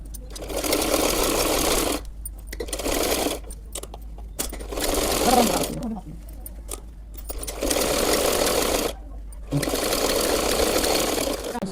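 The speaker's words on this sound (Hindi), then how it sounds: "यहाँ पर बारीक बारीक यहाँ पे सिलाई लगाऊंगी।" An electric sewing machine stitches a salwar suit in bursts of steady, fast whirring, each run lasting a couple of seconds before stopping, with someone talking in the pauses.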